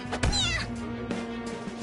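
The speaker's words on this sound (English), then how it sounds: "Will you shut up, you stupid cat?" A cat in the video game Persona 5 Royal gives a loud, close, drawn-out meow, followed by a shorter, softer cry, against a steady background hum.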